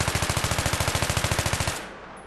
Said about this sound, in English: let's start off by shooting a couple rounds to see where the recoil goes if you don't touch the cursor